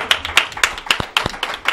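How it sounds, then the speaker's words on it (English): Sparse, distinct hand claps from a small audience at a local talk show, about a dozen sharp individual slaps in irregular rhythm, close and fairly loud. "Give another round of applause,"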